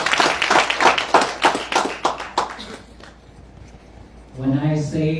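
An audience at a Navratri discourse gives a round of applause for a student, with brisk rhythmic clapping that fades after a few seconds, followed by a quiet gap and then a voice speaking.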